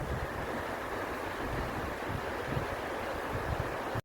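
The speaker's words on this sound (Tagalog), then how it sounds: "Napakagandang ilog." A river in Taiwan rushes with a steady, broadband roar of flowing water, loud and constant throughout, mixed with some wind buffeting.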